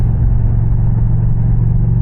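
An Indian Challenger motorcycle's exhaust drones as a loud, steady low rumble while the bike cruises along, with wind noise mixed in and no speech.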